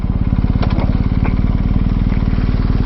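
A BMW R1250 GS HP Rallye motorcycle rides along, its boxer engine a loud, close, steady rhythmic throb with wind rush layered on top.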